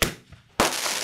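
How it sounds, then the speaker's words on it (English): A firecracker goes off outdoors at a roadside stop, one sharp loud bang after a short pop, its crack ringing out and decaying into a noisy tail. "That's a firecracker."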